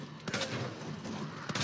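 Shotgun blasts in Resident Evil 2 Remake, a dense run of loud gunfire bursts with several sharp reports over a continuous roar of game action.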